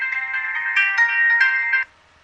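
A mobile phone sounds a text message alert, a short, bright electronic melody of several rising and falling tones that plays clearly for under two seconds and then stops, leaving near silence.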